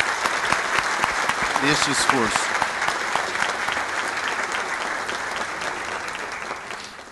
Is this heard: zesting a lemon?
no